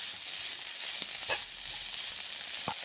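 Kohlrabi frying in a pan, a soft continuous sizzle at moderate distance with a couple of brief stirring knocks.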